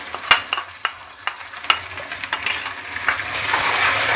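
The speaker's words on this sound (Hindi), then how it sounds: "2-3 मिनट फ्राई कर लेंगे ताकि लहसुन की जो अपनी एक स्मेल है वो ख़त्म हो जाए।" Onions fry with garlic and ginger paste in a pan, giving a soft sizzle broken by scattered stirring clinks and scrapes of a spoon against metal, close up and without talk.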